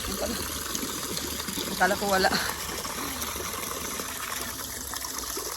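Water runs from a tap at a house in a steady, moderately loud gush that continues throughout, with a brief spoken phrase near the middle.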